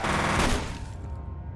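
Loud, dense automatic gunfire from the PC shooter F.E.A.R., a rapid burst peaking early, then a trailing rattle and echo fading out.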